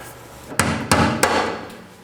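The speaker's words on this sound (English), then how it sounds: "I'm just gonna hit it with a hammer." Three loud, sharp hammer blows ring out on corroded metal of a 2013-2019 Nissan Sentra rear brake hose fitting in quick succession at close range, each followed by a brief metallic decay.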